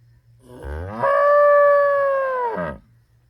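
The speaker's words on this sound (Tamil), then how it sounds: "இந்த கண்ணுக்குட்டிக்கு தான் இப்படி கத்துறங்க" A cow moos once for its calf on a farm, a loud, close, sustained bellow lasting about two seconds, rising and then falling away, with no talking.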